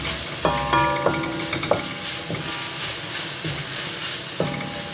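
Sautéing in a pan over raised heat with pounded ingredients added, ahead of shark meat going in: a close, continuous sizzle broken by several clanks and tonal scrapes of a utensil against the pan, with no voices.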